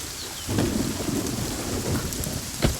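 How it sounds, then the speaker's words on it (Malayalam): Heavy rain pours steadily as a thunderstorm rolls on, with a continuous loud wash of falling water and a sharp crack of thunder near the end. "തെന്നി വീഴല്ലേ, നല്ല മഴയാ"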